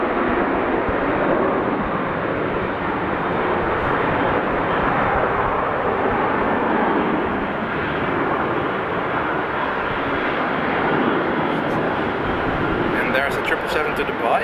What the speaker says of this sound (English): There's a 777 to Dubai.